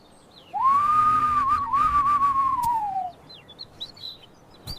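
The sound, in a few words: human whistling imitating a bird call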